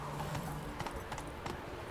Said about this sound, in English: Wait, my horse?